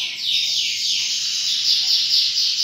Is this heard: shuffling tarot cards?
no